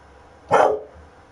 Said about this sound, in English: You see him bothering the dog,